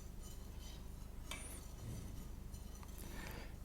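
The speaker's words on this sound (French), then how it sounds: "Je vous conseille maintenant d'utiliser un fouet pour bien mélanger notre préparation." A whisk stirring a leek and flour velouté in a pot, soft continuous scraping with a few light metallic clinks, faint and close.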